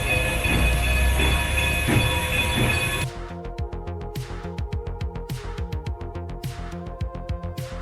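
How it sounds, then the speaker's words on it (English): An old passing train opens with a loud, dense rumble, then settles into a steady clickety-clack of wheels over rail joints, repeating in a brisk, even rhythm. "added some old train footage I found in the video library"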